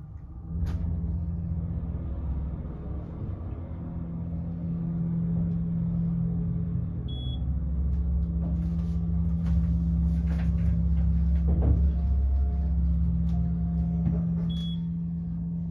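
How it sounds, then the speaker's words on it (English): The motor of a Dover/MCE hydraulic elevator at a JCPenney in a mall starts with a clunk and hums steadily at a low pitch for about fourteen seconds, with faint clicks and a brief beep. "Let me close the door first so we can hear this motor."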